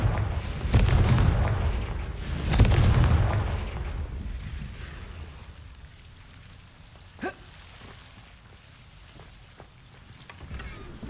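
Confringo fire spell cast in the Hogwarts Legacy video game, giving a couple of heavy booming blasts up front that fade into a softer rumble, then a lone sharp crack later.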